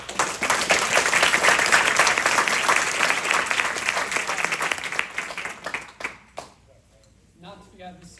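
Audience applause fills a school board meeting room, loud and sustained clapping for several seconds before thinning out and fading, with a few scattered claps and faint murmurs trailing at the end.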